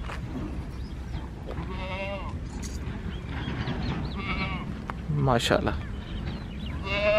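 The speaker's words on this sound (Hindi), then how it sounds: "माशाल्लाह अच्छी बकरी है" Amritsari Beetal goats in a Sahiwal livestock setting give a few bleats, one louder and nearer, amid steady background noise while someone talks.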